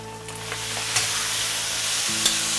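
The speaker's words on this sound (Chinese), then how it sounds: "把这个肉粒煸到稍微的有点吐油捐了之后呢，接下来我们下入瘦的这部分" Diced pork stir-fried over maximum heat with scallion pieces and ginger slices, sizzling steadily and loudly close by, with a few sharp clacks of the turning spatula and a low hum beneath.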